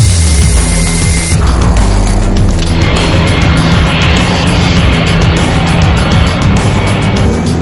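Concorde's four Rolls-Royce engines roar at takeoff as the plane accelerates down a 4,000-meter runway, a loud, continuous broadband rumble that stays steady and dense throughout with no voices.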